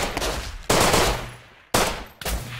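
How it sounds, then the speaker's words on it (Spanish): Bursts of automatic gunfire in the survival video game Rust, three sharp volleys with brief gaps, loud and close with no talking. "vienen tiros de todos lados"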